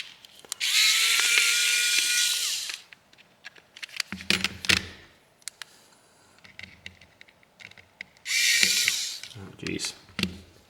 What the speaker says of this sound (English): So we'll get that last screw out.